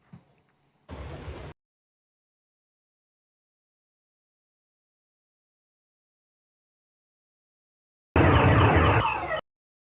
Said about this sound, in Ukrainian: Спочатку послухаємо, які ж вибухи лунали у Курську